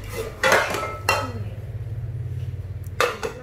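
Metal clatter and clinks from a Japanese aluminum frying pan and pot being handled, with a few sharp knocks at the start and end over a steady low hum, close and moderately loud.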